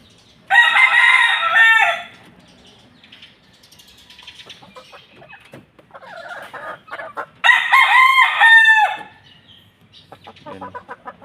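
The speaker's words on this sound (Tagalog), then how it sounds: "White kelso." A white Kelso rooster crows twice, loud and close, each crow a ringing drawn-out call, with softer clucking and faint rustling between them.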